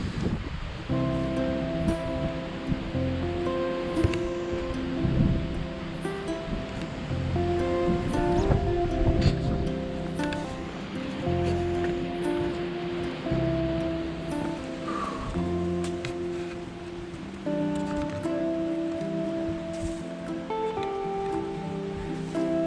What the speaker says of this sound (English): That's a small river flowing on the right.